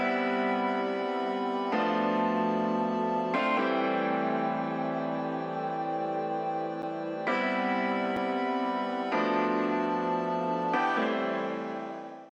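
A three-layer break section for a track built in FL Studio, stacking electric piano, guitar sound and synth with effects applied, plays as a full, sustained block of chords changing every couple of seconds, loud and steady throughout.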